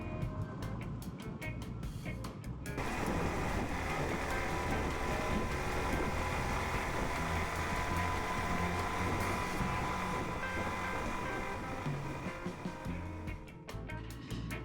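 A Suzuki DRZ400S motorcycle rides over rocks at about 45 miles an hour, its engine drone mixed with heavy wind buffeting on the microphone, loud and continuous throughout.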